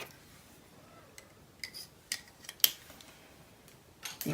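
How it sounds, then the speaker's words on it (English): A cover snaps onto a pair of sewing scissors with a few small, sharp plastic clicks and taps, spaced apart against a quiet room. "just put the cover on my scissors"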